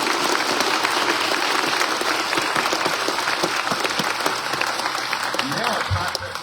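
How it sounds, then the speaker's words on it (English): A crowd at a food bank grand opening gives loud, continuous applause that fills the whole stretch, a steady wash of many hands clapping with a voice surfacing at the end. "Let's give them another round of applause."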